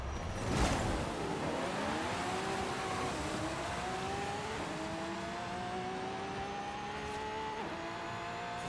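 A tuned 3-speed drag car in Forza Horizon 5 launches at full throttle, its engine roaring and climbing in pitch through two clear gear shifts, loud and continuous for several seconds with a brief burst of tire noise at the start.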